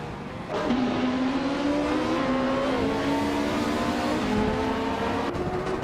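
A Porsche 911 (996) GT3 R race car in a racing video game at Marina Bay, its engine droning at high revs with pitch gently rising and stepping through gear changes, loud and steady throughout.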